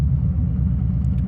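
A Harley-Davidson motorcycle rolling slowly with light front braking, its engine giving a steady low rumble throughout this short moment.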